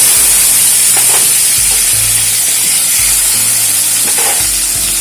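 Ginger paste and chopped tomatoes frying in hot oil tempered with panch phoron, a steady close sizzle with a few stirring scrapes and bursts of spitting through the five seconds.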